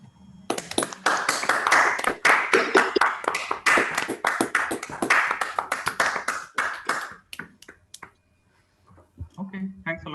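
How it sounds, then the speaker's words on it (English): Scattered clapping from participants on a video call thanking a lecturer after a mathematics lecture, uneven bursts from several unmuted microphones that taper off into brief voices. "I invite everybody to unmute themselves and thank Subhash for with applause for this wonderful lecture course."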